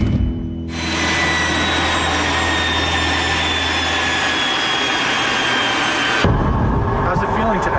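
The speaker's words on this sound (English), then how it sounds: "As a prototype for a turbine-powered car, the first Firebird was a rousing success." A 1950s GM Firebird turbine-powered concept car runs with a loud, steady jet-like whine and roar that starts abruptly, holds constant for several seconds, then cuts off.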